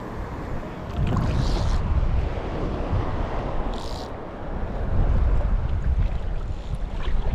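Ocean surf rolls and breaks along a beach while someone fishes from the shore, a continuous rushing wash that swells and eases, roughened by gusts of wind buffeting the microphone.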